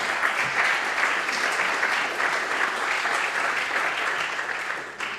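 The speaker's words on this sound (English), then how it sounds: "And a round of applause to them as well." A youth parliament audience claps steadily, a dense, sustained round of applause that stays loud before easing slightly near the end.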